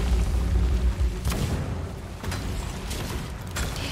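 Heavy booms of cannon fire in the pirate video game Sea of Thieves, two sharp blasts about a second apart over a rumbling low background, loud and close.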